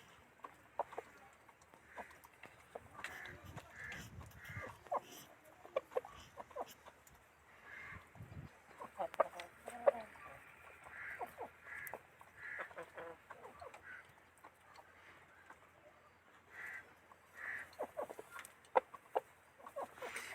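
Aseel chickens clucking in a hen house, with scattered soft clucks and short calls through a steady background and brief rustles, and a few louder bursts; no clear crow stands out.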